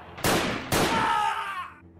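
Sniper rifle shots in a dramatized action scene: two sharp, loud cracks about half a second apart, the second trailing into a ringing echo that fades.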